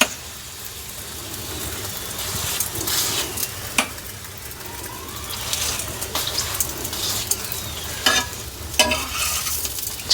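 Bhakshalu fry in a mix of half ghee, half oil, giving a steady hissing sizzle with bubbling, broken by occasional stirs and light clinks of a utensil against the pan.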